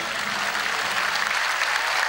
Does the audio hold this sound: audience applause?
yes